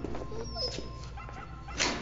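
A small dog whimpers and yips softly in a laboratory setting, its thin whines rising over a low background hum, with brief voices nearby.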